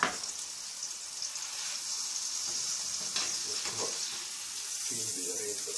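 Beef steak frying in butter in a cast-iron pan, a bright, even sizzle that holds steady throughout, with faint low murmurs of talk underneath near the middle and end.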